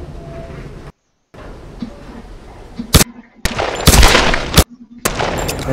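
Gunfire in a Tomb Raider video game: several sharp, loud shots and a short burst crack out in the second half after a stretch of quieter game sound that drops out briefly.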